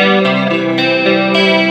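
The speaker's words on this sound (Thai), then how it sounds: "ตอนนี้ใส่เสียงแตกด้วยเนี่ยนะ" A distorted electric guitar runs through a multi-effects board with chorus and delay, holding a thick, continuous sustained tone with a few note changes, loud and close.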